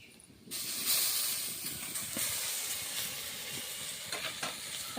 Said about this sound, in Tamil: தக்காளி பேஸ்ட் வந்து சேர்த்திட்டோம் நல்லா கிளறி விட்டுட்டு